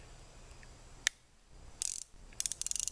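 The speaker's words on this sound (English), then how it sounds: "I'll try to get the cylinder out." A muzzleloading revolver's cylinder is worked loose, with a sharp single click followed by quick bursts of rapid ratcheting clicks from the mechanism, close and fairly quiet.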